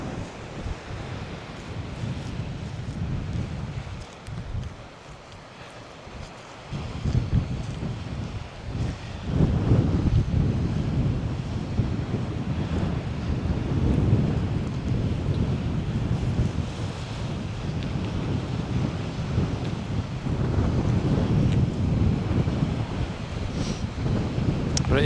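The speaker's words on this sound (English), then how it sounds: "it is quite blustery, so I hope you can hear me okay" Blustery wind buffets the coast at St Ives near Porthmeor Beach, roaring in loud gusts against the microphone with faint surf beneath, steady and rough for the whole stretch with no talk.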